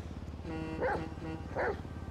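Dog barking in Grand Theft Auto V, two short barks about a second apart over steady game music and ambience, moderately loud and without talk.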